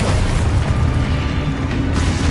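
A game explosion from a cast Expulso spell gives a loud, sustained booming roar that fills the whole moment with heavy low rumble and no voices.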